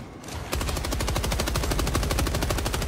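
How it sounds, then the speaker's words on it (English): Rapid, steady machine gun fire from a support weapon in the video game Helldivers 2, starting abruptly after a brief lull and continuing as a dense, evenly spaced burst of loud shots. "Support weapon inbound. Oh. Let's go down. Oh, machine gun."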